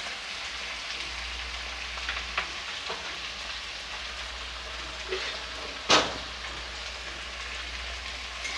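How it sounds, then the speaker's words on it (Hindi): Onion, green chilli and garlic paste fry in hot mustard oil, giving a steady close sizzle and crackle with a brief louder spatter partway through and no talk. "इसे हम अच्छे से भूनेंगे।"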